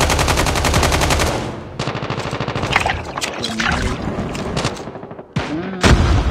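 Call of Duty Mobile gunfire: rapid automatic bursts of shots, loud and close, broken by short pauses and scattered single shots, with faint game sounds between.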